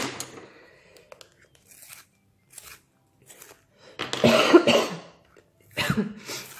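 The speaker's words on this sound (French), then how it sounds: "j'essaie de pas trop tousser pendant la vidéo" A burst of harsh coughing at close range, a few rough coughs in quick succession, followed by another short cough after a brief pause, with quiet rustling before.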